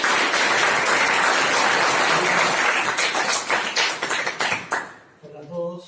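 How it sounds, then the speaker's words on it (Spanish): An audience at a talk gives a loud, dense round of applause for a speaker, the clapping thinning into scattered claps before a voice begins. "Recibámoslo con un fuerte aplauso."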